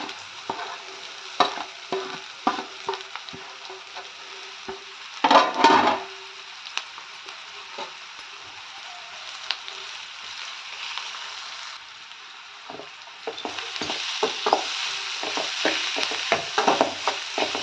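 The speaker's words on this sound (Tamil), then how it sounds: "வாழைக்காய் நல்லா இந்த வெங்காயத்தோடு நல்லா கலந்து விட்டுக்கலாங்க" Grated green plantain being stirred into fried onions in a kadai, with a steady sizzle of frying and repeated scraping strokes of a spoon against the pan. A louder burst of stirring comes near the middle, and the frying grows fuller toward the end.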